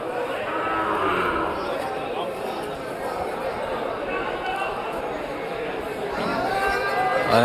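Cows and young heifers at a rural cattle market give low moos amid a dense, continuous crowd murmur and people talking nearby.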